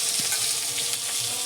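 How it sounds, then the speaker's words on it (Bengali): Potato pieces fry in oil in a pan for a Bengali fish curry, a continuous close crackling sizzle with faint stirring, short and unbroken, no voices. "দিয়ে ভালো করে একটু ভেজে নেবো"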